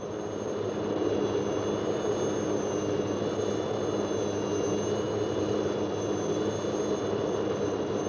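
A steady, loud helicopter engine roar with a low rumble, running continuously nearby over the jungle, with no voices.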